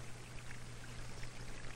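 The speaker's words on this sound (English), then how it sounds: "This is a simplified model of a stream flowing into a reservoir." Water flowing down a small model canyon stream into a reservoir, a soft, steady, even rush of trickling water with no talk, faint and continuous for the whole moment.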